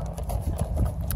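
Hooves of a horse ridden bareback at a barn clip-clop at a walking pace, a few close, loud footfalls over a steady low rumble with no talking.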